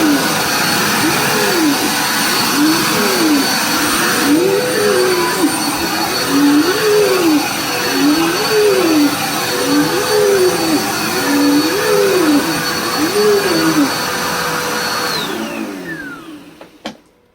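A Dirt Devil Power Express vacuum cleaner runs loud and close with a steady whine, its pitch wavering in a repeating pattern as it is pushed back and forth, before the motor spins down and stops.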